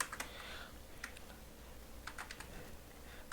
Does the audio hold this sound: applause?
no